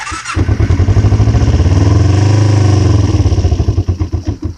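A cold 2005 Ninja 250 motorcycle engine, started on choke, cranks and catches, idling loudly with a throbbing, uneven high idle before settling into a pulsing putter, close to the microphone.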